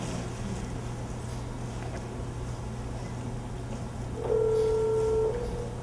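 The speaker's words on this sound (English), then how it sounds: "that is just using a dial tone on a phone, and I'm able to make a call, as you'll see here in a second, on this touch screen phone" Touch screen phone dialing a call: a steady low hum runs throughout, then a brief sustained electronic tone about a second long sounds near the end, clear and alone with no talking.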